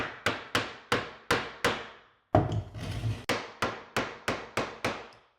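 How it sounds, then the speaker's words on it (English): A hammer taps a piece of green board into place around a bathtub, sharp evenly spaced knocks in two runs of five and six, with a brief scraping shuffle between them, close and loud. "So you just tap it, put this piece like right here, and use a hammer."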